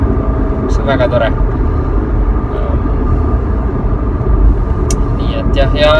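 A car engine drones steadily while driving, with a faint high turbo whistle rising now and then over the constant road and engine noise, and a voice talks over it.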